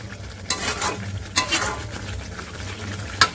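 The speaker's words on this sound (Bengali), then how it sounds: "নামানোর আগে আমি গরম মশলার গুঁড়ো দিয়ে দেবো, দিয়ে ভালো করে নাড়া দিয়ে নেব।" A spoon scraping and stirring chicken kosha curry in a pan after garam masala powder goes in, with a few sharp scrapes over a soft continuous sizzle close by.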